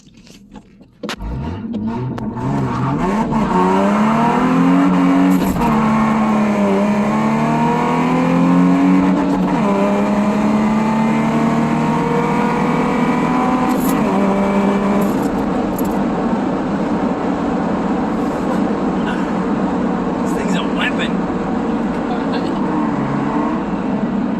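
A Ford Mustang engine roars and revs steadily at close range, its pitch rising and falling with throttle blips over a constant heavy rumble, no talking.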